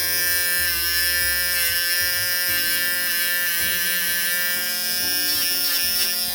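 A cheap electric nail machine filing off gel nail polish, giving a steady close buzzing whine with slight pitch shifts as the bit presses on the nail, with no talking.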